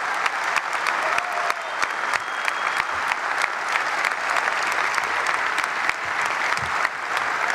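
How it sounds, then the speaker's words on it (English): Sustained applause from a large audience at the 2018 Minnesota Republican Party convention, a steady dense roar of clapping held at an even level throughout with no voices breaking through. "Give them a round of applause."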